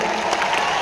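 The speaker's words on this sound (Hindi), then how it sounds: "अब तो बजा लो तालियां भाई" Brief burst of audience applause at an indoor training event, a dense, steady patter of many clapping hands.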